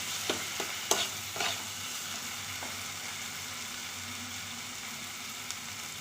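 Sautéed cabbage hisses in the pan after a splash of water, giving a steady, fairly soft sizzle; a few spatula knocks come early, then the hiss continues alone with no talking.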